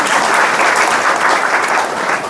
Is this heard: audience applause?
yes